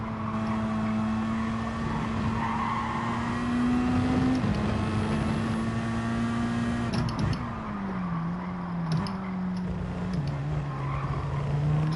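A race car engine in Gran Turismo 7 holds a steady, sustained drone that shifts pitch between gears. Tire and road noise run continuously at moderate volume, with no talk over it.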